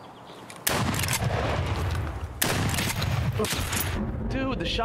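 Shotgun fire in Escape from Tarkov, with loud, sharp blasts and dense bursts of gunfire in quick succession, fairly close and dominating the mix.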